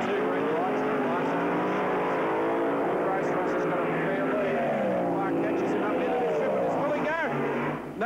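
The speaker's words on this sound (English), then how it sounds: "Watch for about a second start to the car, the Tirana sedan on the left side of the screen." Tirana sedan drag race car at the start of a drag race, a loud sustained engine roar with rising and falling revs and gear changes, heard amid crowd and announcer noise.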